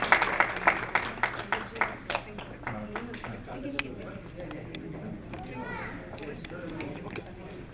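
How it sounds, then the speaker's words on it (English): Applause opening an arangetram dance ceremony: a burst of group clapping at the start that quickly fades, followed by murmuring voices and people talking in the background. "So we'll give a big round of applause."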